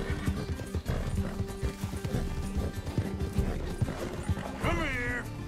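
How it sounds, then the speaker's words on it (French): Horse hooves clip-clop rapidly at a gallop in Red Dead Redemption 2, loud and continuous, ending in a sharp neigh. "Allez, allez le cheval."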